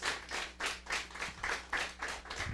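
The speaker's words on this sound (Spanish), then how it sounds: "¿Cuántos le pueden dar palmas a Jesús? Dáselas fuerte a Jesús." A congregation at a church service claps hands in a steady rhythmic beat, roughly three claps per second, each one clear and fairly close, with no talking over it.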